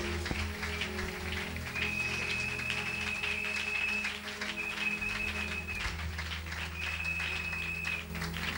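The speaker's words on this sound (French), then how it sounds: "Acclamons Jésus. Tobeteli Yesu maboko." A Pentecostal church congregation applauds Jesus, a dense, even patter of many hands clapping that continues throughout, with a sustained musical tone and faint voices in the background.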